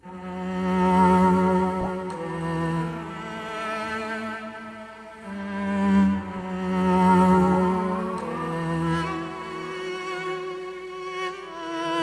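A heavily processed cello phrase from the Lyrical Cello Phrases library plays alone, with slow, swelling sustained notes that rise and fall in gentle waves, detuned and washed in reverb.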